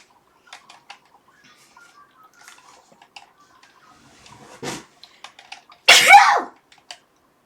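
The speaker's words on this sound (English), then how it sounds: "That was a very big sneeze." A single loud sneeze bursts out near the end, preceded by a sharp intake of breath and faint ticking in an otherwise quiet room.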